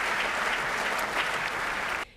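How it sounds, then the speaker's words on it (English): Audience applause at an evening tribute event in New York honoring the Lindsay family, a full, dense round of clapping at steady volume that cuts off abruptly just before the end. "Let's have a round of applause for the wonderful Lindsay family."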